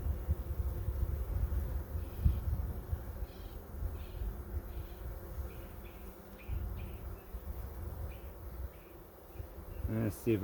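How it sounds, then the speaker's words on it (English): Agitated honey bees swarm and buzz close by during a hive inspection, a dense, steady drone with wavering intensity throughout, ending with a brief louder bump. "I'm not used to having so many bees on my fingers like this either."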